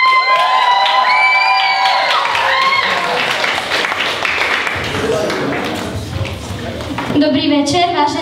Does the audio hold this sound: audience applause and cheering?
yes